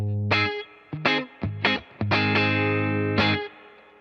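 Electric guitar on the neck pickup through the normal channel of a Vox AC15 amp, playing a few separate plucked notes and chords that ring and decay, then a longer sustained chord, clear and close.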